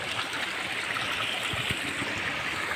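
The Saluysoy River flows steadily nearby, a continuous watery rush with faint gurgles and no voices.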